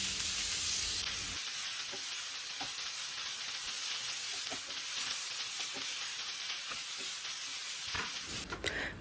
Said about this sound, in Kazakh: Біздің маринадта тұрған тауық етін тапада қуырып, жарты сағаттай қуырып пісіріп аламыз.